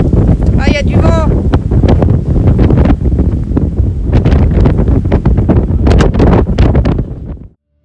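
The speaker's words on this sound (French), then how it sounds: "Ah, il y a du vent." Strong wind buffeting the microphone on a beach beneath cliffs, loud and gusty throughout, with a person speaking over it and a brief tonal whistle near the start before the sound cuts off.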